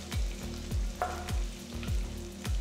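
Cumin and chopped garlic frying in oil in a wide pan for a garlic okra curry. A loud, continuous sizzle is broken by rhythmic scraping stirs, roughly every half second, close up.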